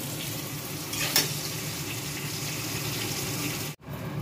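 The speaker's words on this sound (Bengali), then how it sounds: "সব সবজিগুলো এক এক করে সব ভেজে নিচ্ছি" Vegetables fry one after another in a pan, a steady soft sizzle and hiss running through the whole stretch, fairly quiet, with a brief bump and a sudden cut near the end.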